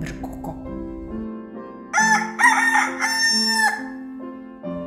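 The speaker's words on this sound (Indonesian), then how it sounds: "ayam berkokok." A rooster crows twice in the middle, loud and close, each call a bright drawn-out cock-a-doodle-doo, with some quieter clucking and low background tones before and after.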